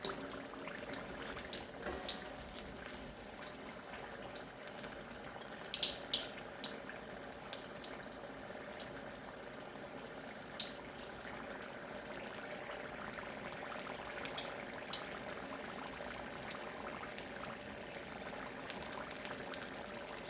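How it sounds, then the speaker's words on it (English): Egg rolls deep frying in hot oil, a steady soft bubbling sizzle with scattered faint pops and crackles, continuous and close. "So you see how the oil is cooking the egg rolls."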